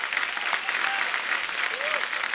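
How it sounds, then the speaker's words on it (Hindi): A studio audience claps steadily and enthusiastically throughout, dense even applause with a few whoops mixed in, on a comedy TV show. "हमारे चारों मेहमानों के लिए जोरदार तालियां हो जाएं।"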